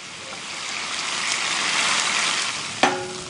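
Gyoza sizzle and crackle steadily in a hot pan after a corn flour and water mixture and sesame oil are added, a loud frying hiss that swells slightly, ending with a brief clink.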